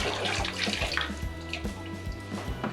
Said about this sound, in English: we're going to take our jug over to our watering container and just pour it all into the bucket